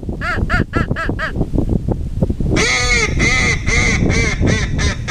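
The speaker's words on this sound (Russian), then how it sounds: "Крик гусей, крик уток." Recorded goose calls played as a hunting lure: a few quick short calls, then a steady run of harsh, drawn-out honks repeating one after another, with no voices.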